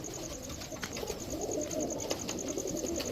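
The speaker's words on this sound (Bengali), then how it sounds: "এই যে মিয়ানাজির টেডি" Mianaji teddy pigeons coo softly and repeatedly in a pigeon market, with a steady high-pitched electronic tone and light background bustle underneath.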